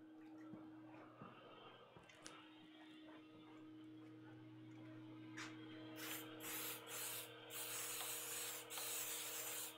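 Hairspray aerosol sprayed onto a 3D printer bed in a basement, with a low mechanical hum underneath. Several short hissing bursts come in the second half, separated by brief pauses, fairly close and moderately loud.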